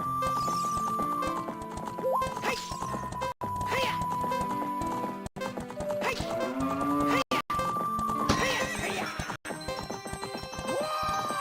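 Horses gallop in a video game with steady clip-clop hoofbeats, occasional whinnies and jingling tack, layered over game music and effects and broken by brief gaps.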